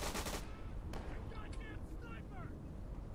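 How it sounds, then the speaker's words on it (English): Gunfire in the World War II shooter Day of Infamy: a loud burst near the start, then a single sharp shot around a second in, over constant battlefield rumble and scattered distant fire, with a voice speaking briefly. "It's a goddamn sniper."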